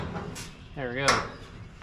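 A metal hinge on a barrel smoker lid gives a single short, wavering creak, close by, with quiet background noise around it.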